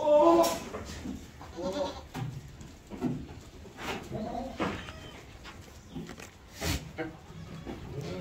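Sojat goats on a goat farm give short, scattered bleats amid people talking nearby, with one clear nasal call near the start and further brief cries spread through a busy, murmuring background.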